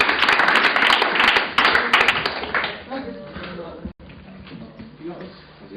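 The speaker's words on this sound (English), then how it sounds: "Round of applause." Audience applause at a presentation event, dense clapping for about three seconds before thinning into a few scattered claps and fading out.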